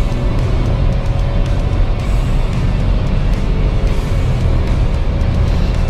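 A Chevrolet Onix Plus 1.0 Turbo Premier automatic, 2020, accelerates uphill to overtake, heard from inside as a loud, steady engine drone with heavy low road rumble and no talk.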